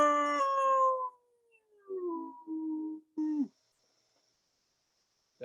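A group of people in a conference session imitate a wolf howl together, voices rising and sliding down in a long wavering howl, followed by a couple of shorter, fainter howls and trailing calls.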